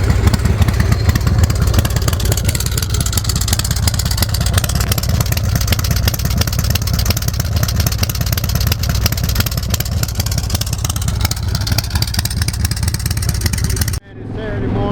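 A custom chopper motorcycle engine runs steadily and loudly up close, a deep continuous rumble with slight revving, holding for about fourteen seconds before cutting off abruptly.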